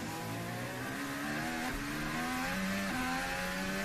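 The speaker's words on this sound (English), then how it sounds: "Alpine riding on board with Esteban Ocon into turn 10" An Alpine Formula 1 car heard from its onboard camera during Bahrain testing, the high-pitched hybrid engine screaming close and loud, revs climbing and dropping through gearshifts into turn 10.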